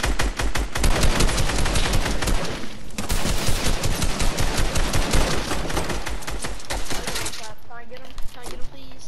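Dense, rapid automatic gunfire in a shooter video game, loud and nearly continuous with sharp repeated cracks, briefly dipping before the firing resumes.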